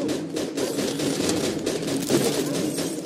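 Machine gun fire in Mafia 2, a dense, continuous rattle of rapid shots that holds steady at close range without a break.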